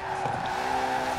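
A car engine in Forza Horizon 4 drones loud and close, a sustained, steady revving tone over a brief stretch.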